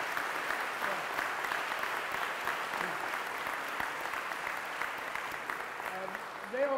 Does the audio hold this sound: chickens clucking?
no